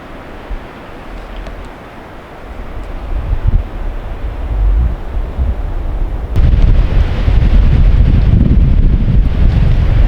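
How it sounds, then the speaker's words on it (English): Strong spring wind buffets the microphone at a tarp campsite, a loud rumbling roar that gusts irregularly and grows louder and harsher partway through, with no voices. "it's windy out there."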